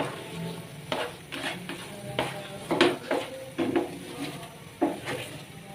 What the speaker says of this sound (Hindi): और अब इसकी करेंगे जी घी के साथ दोबारा से भुनाई